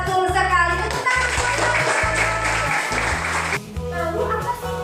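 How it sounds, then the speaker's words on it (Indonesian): Students in a classroom clap their hands in a rhythmic patterned burst, close and lively, with children's voices mixed in around the claps. "Tepuk tangan."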